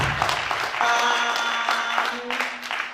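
Audience applause at a book launch in Masvingo: a burst of many hands clapping, loud and continuous for about three seconds, with a sustained tone ringing faintly underneath.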